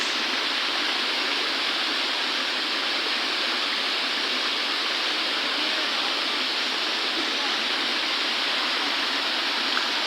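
Steady, loud roar of a large waterfall at Canonghan Falls, pouring without pause into a broad pool, continuous broadband rushing water with no voices.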